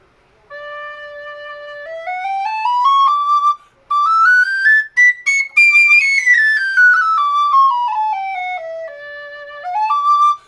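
Conical bore high D tin whistle playing a clear, bright melody: notes step upward, hold high, then descend in a smooth run before a final rise, loud and close with no talking.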